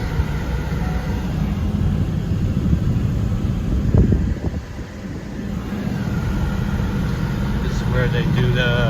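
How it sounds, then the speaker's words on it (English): Ford cars run on a racetrack used for Formula Drift, with a steady engine drone that swells around the middle and then settles. Someone speaks briefly near the end. "driving on the racetrack"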